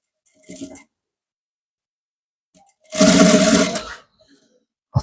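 A sewing machine stitches trouser fabric in one loud, steady burst of about a second, preceded by a brief faint mechanical sound, with no talk.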